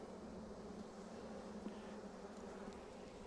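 Honeybees hum in a steady, low drone while a brood frame is lifted out for inspection in early spring, the faint continuous buzz holding alone without speech.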